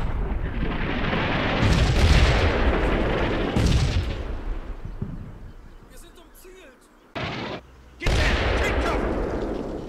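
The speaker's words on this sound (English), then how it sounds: "I decide to hit the last remaining bunker with another artillery strike." An artillery strike pounds a bunker on a hillside in Combat Mission Fortress Italy, with heavy rolling booms and rumbling blasts that fade, then a sharp renewed impact near the end; a voice speaks over part of it.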